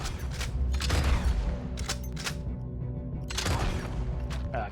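Several gunshots from Red Dead Redemption 2 gameplay ring out in quick bursts, fairly loud, with echoing tails and a low rumbling ambience beneath.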